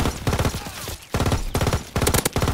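Rapid, continuous machine gun bursts in a first-person shooter game with tanks, loud and close, broken by a short pause near the middle before heavy firing resumes.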